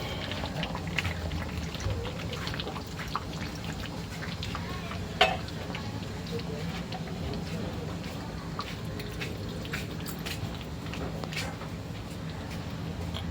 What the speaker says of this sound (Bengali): বেশি জল দিলাম না, অল্প একটুখানি জল দিলাম, জাস্ট হালকা করে একটু ফুটিয়ে নেব।